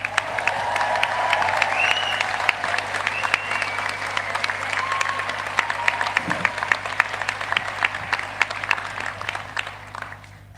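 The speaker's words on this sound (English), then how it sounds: "Give yourself a cheer," Graduates and guests at a university graduation ceremony break into sustained applause and cheering, a dense crowd of clapping hands heard close and steady throughout with scattered whoops.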